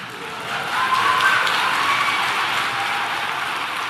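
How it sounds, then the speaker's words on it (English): Audience applause, a dense wash of many hands clapping that rises after a brief quiet start and then holds steady at a moderate level. "You're clapping."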